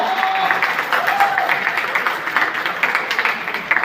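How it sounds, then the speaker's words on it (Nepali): An audience at a surprise gift celebration for a husband's success, where the prize is a bike, claps loudly and steadily as a dense crowd applause that runs throughout. "उहाँको यो विशेष क्षणको लागि जोरदार ताली तपाईँ सम्पूर्णले बजाएर साथ दिनुहोला"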